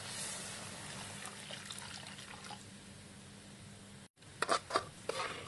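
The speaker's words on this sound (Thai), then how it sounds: "ต่อไปค่ะให้ใส่น้ำเปล่าลงไป" Plain water poured into a pot of Thai pork and coconut milk curry, a steady close splashing trickle that stops abruptly, followed by a few faint clinks and stirring sounds.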